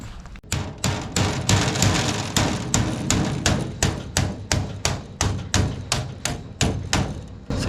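Sharp metallic hammer blows strike a metal rock guard edge to bend it over for a camper window, around a dozen evenly spaced, loud, close impacts ringing out one after another with no talking.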